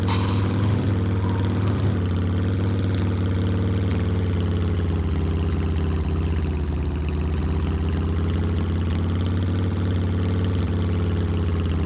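A chopper motorcycle in the game SCUM idles steadily, a loud, low, even engine drone with a constant throb that holds without change throughout.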